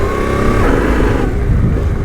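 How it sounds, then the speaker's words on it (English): A dirt motorcycle on a dirt surface revs hard as the clutch drops in second gear for a wheelie attempt, a loud, close engine roar that climbs in pitch and then settles, with no talking. "Clutch in, throttle, drop the clutch, more throttle."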